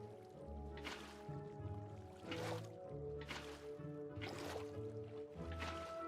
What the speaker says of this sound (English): Ah yes, Minecraft water physics.